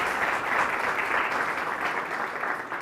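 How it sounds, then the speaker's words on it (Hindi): An audience at a school panel discussion on higher education claps steadily to welcome panelists, a short, even burst of applause at moderate level with no talking over it. "science subject expert miss Raveena Yadav ji, इनका भी जोरदार तालियों से स्वागत कीजिए"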